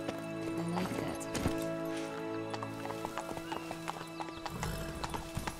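Roach the horse from the video game The Witcher 3 trots, her hooves clip-clopping in a quick steady rhythm along with a whinny, over a soft game music bed.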